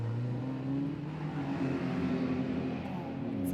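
Ford Escort Mark 1 race car pulling out of the pits onto the Snetterton circuit, engine droning at a steady, rising pitch from a moderate distance, with a low background rumble.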